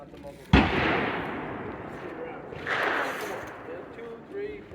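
A handgun fires a single sharp, loud shot at a target on a tactical training range, followed by a softer second report and lingering outdoor echo.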